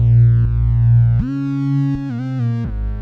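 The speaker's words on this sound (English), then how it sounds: "that effect, Fat Effects, which gives it that pumping sound" A sampled synth-like tone is processed with a Fat Effects plugin, giving a pumping side-chain feel, with pitch bends and sudden level shifts across a few seconds, loud and alone with no voices.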